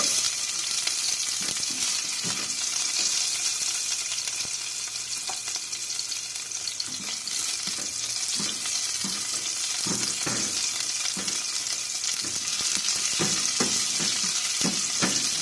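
Onion and garlic sauté in a pan, making a steady, close frying hiss with occasional soft stirring scrapes, no voices over it.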